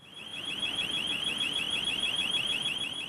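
A burglar alarm going off: a shrill electronic tone warbling rapidly up and down, repeating steadily and continuously at moderate distance, alone without voices.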